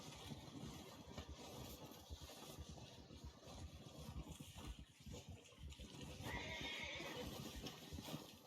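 A horse in the Red Dead Redemption 2 video game whinnies and snorts while its hooves clop in an irregular rhythm nearby, with a faint watery background.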